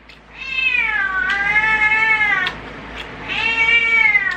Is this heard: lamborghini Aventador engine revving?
no